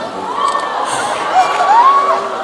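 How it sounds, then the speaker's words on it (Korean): Loud, continuous crowd cheering and high-pitched shouting from an audience at a book concert with a guest singer, sustained throughout with no pauses. "여기 지금 함성 소리를 듣자."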